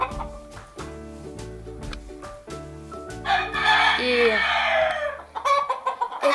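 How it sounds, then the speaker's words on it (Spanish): Roosters at a gamecock breeding farm cluck and crow, a loud crow rising near the middle, while someone talks and a rhythmic music track plays underneath. "Aquí pueden ver unos gallos."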